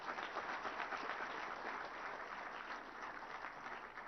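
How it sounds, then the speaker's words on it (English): Audience applause for a government minister at an IT annual report launch event, a steady, even wash of many people clapping, moderately distant and sustained without a break. "Do you think our Honorable Minister or Principal Secretary deserve a good round of applause?"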